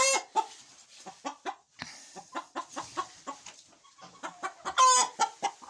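Hens cluck close by in short, irregular bursts of throaty calls, one after another, with quiet gaps between them and no talking.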